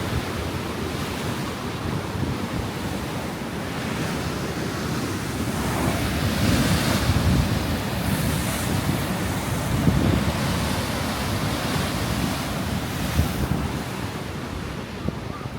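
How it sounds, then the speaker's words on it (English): Choppy winter sea waves slosh and break continuously in a harbour at Bridlington, loud and steady, with gusting wind buffeting the microphone throughout. "It's very choppy, the water's choppy."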